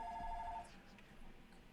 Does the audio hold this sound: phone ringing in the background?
yes